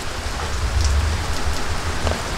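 Rain falling steadily, a loud continuous wash of drops with a low rumbling undertone and no voices.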